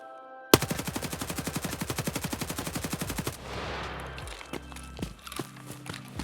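An automatic rifle loaded with 7N40 rounds empties its magazine in Escape from Tarkov, firing a rapid, even burst of about thirty close, loud shots lasting nearly three seconds. Scattered clinks and footsteps follow.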